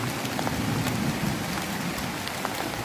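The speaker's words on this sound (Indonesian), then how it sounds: "Ini suasananya hujan" Steady rain falls on a village garden, a dense even hiss of drops spattering on leaves and ground with scattered sharper drips, continuous and fairly loud with no voices.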